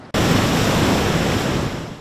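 Heavy ocean surf and breaking waves on the Central Coast of California under a building swell, a loud, continuous broadband roar that swells in after a brief quiet start and holds steady, easing slightly at the end.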